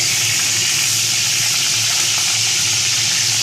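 Fish head frying in hot oil over a high gas flame, giving a steady, close hiss and sizzle that runs unbroken the whole time with no talk.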